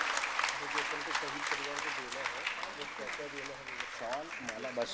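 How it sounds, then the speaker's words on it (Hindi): A stage audience at an Independence Day tribute evening applauds the mother of a fallen soldier, a dense steady clapping that continues throughout under a speaker's amplified voice and crowd chatter. "जोरदार ताली इस वीर माता के लिए होनी चाहिए"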